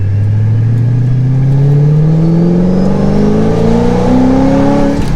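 A 2005 Ford GT engine revs loud and close, rising in pitch through several smooth upshifts with brief dips between gears, sustained and without talk.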